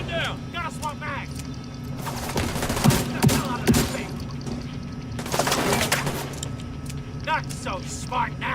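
Bursts of automatic gunfire from the shooter video game The Division 2 crackle amid shouted game dialogue and bird calls, loud and close in several clustered volleys.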